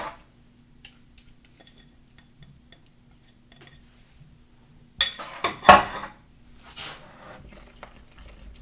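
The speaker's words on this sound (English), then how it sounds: "I'm just going to stir that till it's combined." A spoon clinks and scrapes against a bowl as egg whites are stirred into fortune cookie batter, quiet at first and then a burst of louder, rapid clattering strokes near the end.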